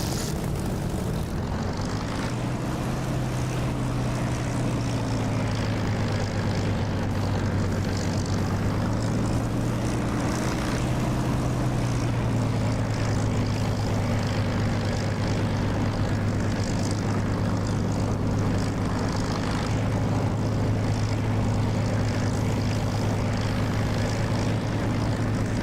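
An aircraft engine drones while taxiing in the DCS flight simulator game. The steady, loud hum continues for the whole stretch, and its pitch shifts slightly at times.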